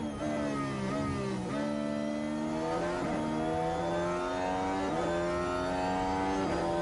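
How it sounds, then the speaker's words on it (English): A Ferrari-powered race car in F1 Manager 23 on the Sakhir circuit screams loudly and steadily, with repeated gear-shift dips and rising revs, alone without talk. "our engine sounds exactly the same, despite the fact that we switched powertrains to Ferrari"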